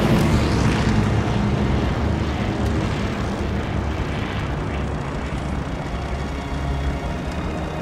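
Propeller aircraft engine from Call of Duty: Vanguard at the Battle of Midway, a steady, loud, broadband drone that holds unbroken throughout.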